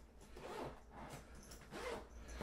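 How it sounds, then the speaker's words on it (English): Zipper on a Case Logic DSLR camera and laptop backpack being pulled open in a few long, raspy strokes, close and fairly quiet with no talking. "that prevents the zipper from going all the way down"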